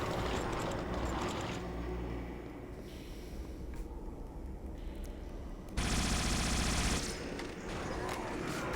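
Rapid bursts of needler fire in Halo, the shots coming in long continuous strings, loud and near, with a brief pause in the middle before a stronger burst resumes.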